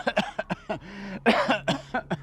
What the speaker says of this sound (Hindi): खांसी जा रहा है, खांसी जा रहा है